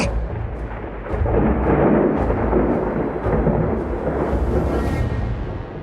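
Deep rolling thunder crashes through a storm with rain behind it, used as a story sound effect set among banana plants; a loud, sustained rumble with several sharper cracks.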